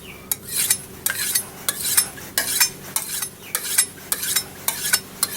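A knife blade is drawn repeatedly across a sharpener from back to front, producing a steady series of short scraping strokes at an even rhythm, close and fairly quiet.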